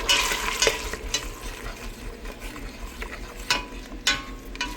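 An onion mixture for a paneer gravy sizzles and fries in a pan while being stirred, with scraping and clattering stir strokes over a constant close sizzle and no talking.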